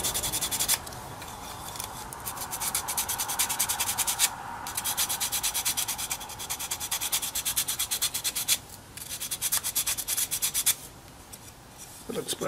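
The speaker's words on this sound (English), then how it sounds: "I'm going to use a little piece of sandpaper here and wrapped around the stick to get rid of some of these blade marks" Sandpaper wrapped around a stick rubs back and forth over a small carved wooden toy, a close, quick rasping rhythm of short strokes with a few brief pauses.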